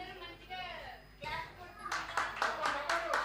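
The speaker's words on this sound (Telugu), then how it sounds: "క్లాప్స్." A small audience at a gift-giving ceremony breaks into clapping after a stretch of speech, the sharp hand claps rising into a brisk, uneven burst near the microphone.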